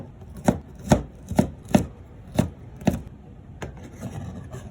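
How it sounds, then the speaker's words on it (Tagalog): Four garlic cloves are chopped finely with a knife, giving six distinct, close thuds on a cutting board at a steady pace, followed by softer scraping. "kumuha nga lang din ako ng 4 na pirasong bawang at hihiwain ko nga lang ito ng medyo pino"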